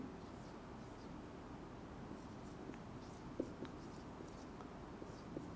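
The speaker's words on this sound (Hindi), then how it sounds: "मैं यहाँ पे लिखता हूँ फैक्ट्री ए" A pen or marker writes on a board during a statistics lecture, making faint, continuous scratching strokes with a few light taps against a steady room hiss and no talking.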